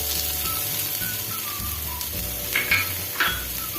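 Chopped tomato hits hot oil in a pan while cooking malai methi matar, setting off a steady, dense sizzle and frying crackle with a few faint scraping clicks, heard alone without talk.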